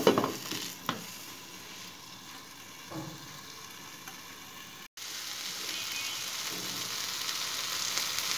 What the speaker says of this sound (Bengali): এই উল্টা পিঠটাও ঢেকে ভেজে নেব।